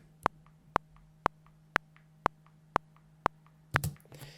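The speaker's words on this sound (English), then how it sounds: "So that's your click." Metronome click in Logic: eight evenly spaced, crisp electronic clicks at a steady tempo over a faint low hum, ending in a louder burst of noise.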